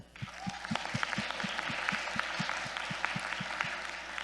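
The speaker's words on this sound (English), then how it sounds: "let's clap it up for everybody that competed." Audience applause for youth poetry slam competitors at a conference, steady and moderately distant, with individual claps spaced fairly regularly and a faint murmur of crowd beneath.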